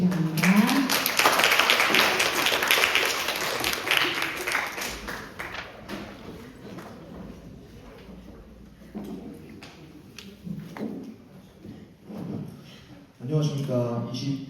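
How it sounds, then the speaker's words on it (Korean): Dense, lively applause from a crowd welcomes a student representative at a drug-prevention supporters' launch ceremony. The clapping is loudest in the first few seconds, then thins into scattered claps and tapping, with a fresh burst near the end. "안내를 맡아줄 김영민 대표 학생을 박수로 맞이해 주시기 바랍니다"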